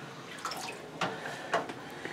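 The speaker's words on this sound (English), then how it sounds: "take this dirty water out" Dirty water from cleaning beauty sponges is poured out of a bowl, giving soft splashes and drips with a couple of sharper spills about halfway through, near and moderately quiet.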